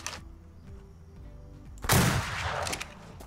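Gunfire in the pirate-themed game Atlas, during a fight at a wild pirate encampment: a quiet stretch, then a sudden loud, sharp blast about two seconds in, trailing into a rough, crackling burst lasting about a second.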